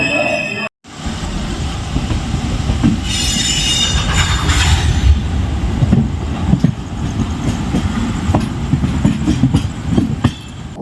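The Puducherry to Howrah Superfast Express runs at speed, its loud continuous rumble carrying wheel clatter and squeal, with a brief dropout near the start and bursts of rattling along the way.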